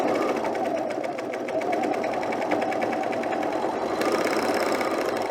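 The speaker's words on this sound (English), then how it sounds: "I just need that left needle of my serger to line up with this stitching here" A serger runs continuously at close range, stitching the center seam of a V-neck garment with a steady mechanical whir, briefly under a short spoken remark.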